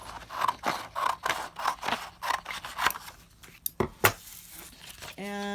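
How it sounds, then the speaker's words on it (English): Scissors snip through paper being cut out for book binding, a rhythmic series of close crisp cuts about twice a second, followed by a few sharper snips and a short tonal beep. "you're just going to cut it out."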